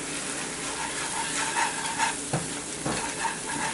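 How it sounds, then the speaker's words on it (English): Turmeric, red chili powder and garam masala frying in a pan for a split gram pakoda curry while being stirred: a continuous sizzle with occasional spatula scrapes and knocks, moderately loud and close, no speech. "Give it a mix."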